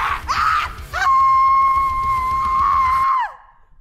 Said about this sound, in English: You scream as loud as you can.